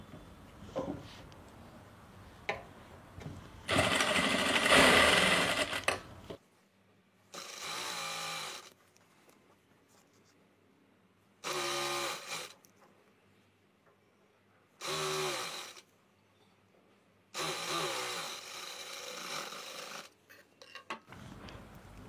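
A sewing machine stitches a pant front belt in several separate bursts of steady, close whirring, with quiet pauses between runs and no talking.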